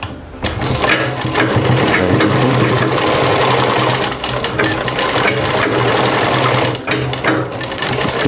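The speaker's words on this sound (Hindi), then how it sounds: "तो सबसे पहले हमें यहाँ से सिलाई लगा देंगे।" Sewing machine running steadily for about eight seconds while stitching a side pocket onto a kurti, a loud continuous motor whir with brief dips in speed and no talking.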